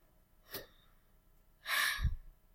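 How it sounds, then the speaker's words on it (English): Two audible breaths, a short sharp inhale followed by a longer, heavier breathy exhale, close and exaggerated in a quiet room. "I'm exaggerating my breathing here so that you can hear it"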